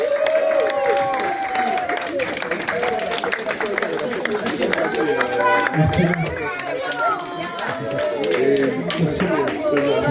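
Audience at a children's Easter church performance claps steadily throughout, mixed with crowd chatter and a voice speaking over the applause.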